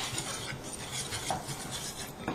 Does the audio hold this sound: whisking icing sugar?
yes